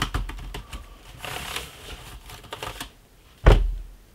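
Quick clacking keystrokes on an Omoton KB515 Bluetooth keyboard for about three seconds, then a single louder thump near the end.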